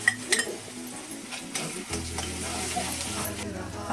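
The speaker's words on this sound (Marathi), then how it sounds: "आता लसूण टाकणार आहे." Garlic and spices fry in a pan for a fish curry, a steady soft sizzle with a few clinks and stirring scrapes, plus a low hum joining partway through.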